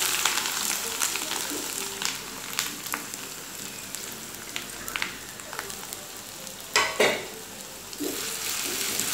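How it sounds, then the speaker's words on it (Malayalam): Ginger frying in hot oil in a pan for a Kerala sadya-style puli inji, a steady sizzling crackle with occasional louder pops and spits, close and continuous without talk. "ഇനി ഫ്ലെയിം ഒന്ന് മീഡിയം ഇതിലാക്കിയ ശേഷം ഈ ഇഞ്ചി നന്നായിട്ട് വറുത്തെടുക്കണം."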